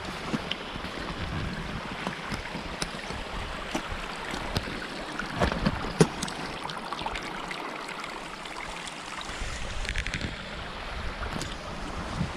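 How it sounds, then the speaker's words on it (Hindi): Meltwater from melting snow and ice rushing down a mountain stream on a Himalayan snow trek in Uttarakhand, a continuous close babbling and splashing flow with some wind, steady and fairly loud with no talking. "ये जो पानी है ना ये आइस मेल्ट हो रही है एंड ऐसे पानी बह रही है"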